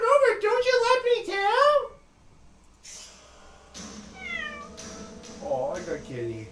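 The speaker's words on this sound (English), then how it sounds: "Oh, who's a good cat?" A cat meows in a short run of rising and falling calls, fairly close and loud. Quieter sounds and further meows follow, and a voice talks over part of it.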